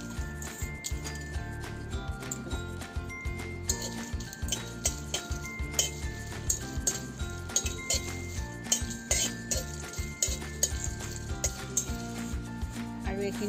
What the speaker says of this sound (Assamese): এফালে মোৰ কেৰাহী গৰম হৈছে মই এতিয়া এই শুকান মছলাখিনি ভাজি ল'ম